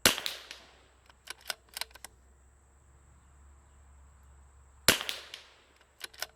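Gunshots from Rimx and Vudoo .22LR rifles ring out as sharp, separate cracks: one opening shot, a quick cluster of several, a long quiet pause, then two more, with a steady insect-like whine in the background.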